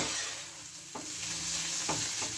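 Tomato sautéing in a pan over a low gas flame, a soft steady sizzle with a few spatula scrapes and stirs punctuating it, close and fairly quiet, with no voices.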